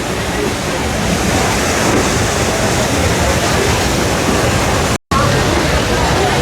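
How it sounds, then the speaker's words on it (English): Flowing water at a water wheel powering a replica early-1800s water-powered sawmill at an amusement park, heard as a steady, dense rushing wash with no distinct events and one brief cut near the end. "It's all powered by this water wheel."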